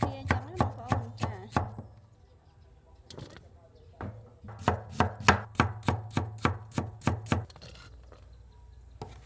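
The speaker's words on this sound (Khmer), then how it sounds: "ខ្ញុំហាន់ស្ដើងដូចគ្នាអញ្ចឹងណាបងប្អូនចា" Knife slicing food thinly on a board for a rustic river-shrimp dish, a close run of quick, sharp chops in two bursts separated by a brief pause.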